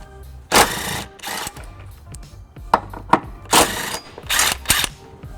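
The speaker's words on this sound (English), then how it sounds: "I've got a 14mm socket and I'm going to remove these 2 bolts." Socket wrench work on the tow hook bolts of a 1999 Lexus RX300, a 14mm socket turning two bolts: several loud, broadband ratcheting and metallic clanking bursts at close range, with no talk.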